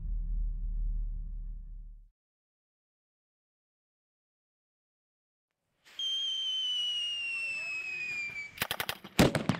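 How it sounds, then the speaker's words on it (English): A Canadian Forces groundburst artillery simulator pyrotechnic at field training: a low roar dies into silence, then a loud, steady high whistle rises and ends in a rapid series of sharp, close bangs. "The Groundburst simulator is used to simulate artillery or mortar fire, thus providing added realism to field training."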